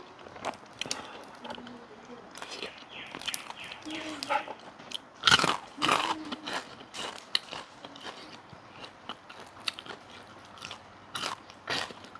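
Someone eating a meal of chili paste with boiled vegetables, boiled egg and leftover fried tilapia, with close crunchy bites and chewing spread through the clip and occasional quiet mouth noises.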